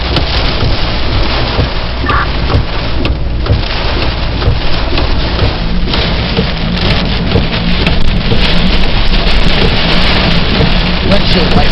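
A very heavy thunderstorm hits Pittsfield, Massachusetts, with loud rain drumming continuously on a close surface and low thunder rumbling underneath throughout.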